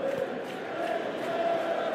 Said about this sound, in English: you can feel and hear how the crowd are reacting to all of this